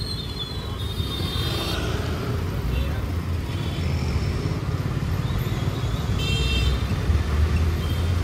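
Busy road traffic in Pune during the Ganpati festival, heard from a moving motorbike: a steady low rumble of engines and tyre noise with a few horn toots breaking through, continuous and fairly close throughout.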